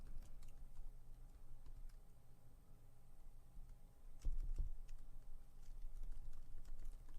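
Fingers tap out a prompt on a computer keyboard, sparse, quiet key clicks with a few sharper presses, heard close in an otherwise calm room without talking.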